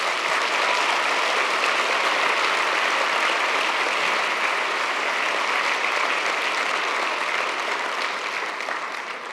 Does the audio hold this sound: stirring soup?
no